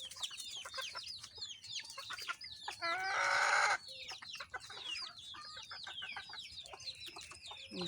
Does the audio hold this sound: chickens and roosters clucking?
yes